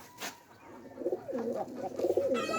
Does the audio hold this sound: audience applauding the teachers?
no